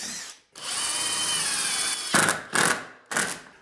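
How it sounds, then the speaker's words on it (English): A power drill pre-drilling a wooden interior door jamb for screws, heard as one long close, loud whine followed by three short bursts. "we can pre-drill and then set our screws"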